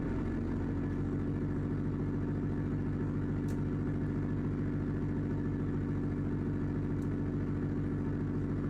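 Simulated car engine idling in Engine Sim software running on Linux: a steady, low rumbling hum that holds even and unbroken throughout, with a couple of faint brief clicks on top and no voices.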